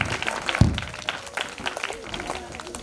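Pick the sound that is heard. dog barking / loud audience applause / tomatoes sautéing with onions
loud audience applause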